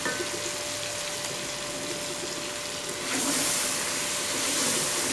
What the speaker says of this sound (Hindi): धनिया, लाल मिर्च और ये दही, तमाम चीज़ें ऐड करके इसको 2 मिनट के लिए भून लेंगे